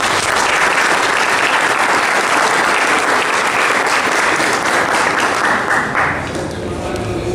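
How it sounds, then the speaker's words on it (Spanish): Loud, sustained audience applause at the blessing of a new town hall building in Jocotepec, Jalisco, a thick wall of clapping that eases off in the last second. "para quien pido un fuerte aplauso."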